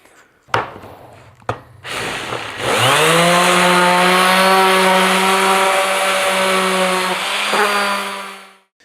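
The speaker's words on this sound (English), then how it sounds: "Okay, so I'm going to sand these down a little bit." A power sander runs on pine boards for a crate, starting with a couple of sharp clunks before rising into a loud, steady motor whine that holds, dips briefly near the end, then cuts off.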